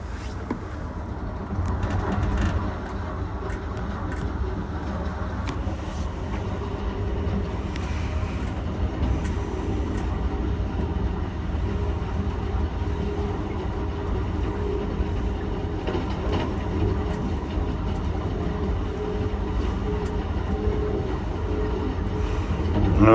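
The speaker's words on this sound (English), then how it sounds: "probably two manned helpers, SD70 ACU, EMD, Norfolk Southern Juniata Works SD70 ACU locomotives" Amtrak Pennsylvanian train near Altoona, Pennsylvania, with Norfolk Southern EMD SD70ACU helper locomotives, a steady low rumble of rolling cars and engines that holds evenly throughout, swelling slightly at the end, with no talk.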